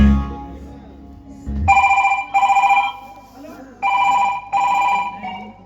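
A telephone rings in repeated double bursts of electronic bell tone, loud and close, with a short stretch of low talk or noise before the ringing starts.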